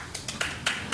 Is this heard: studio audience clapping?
yes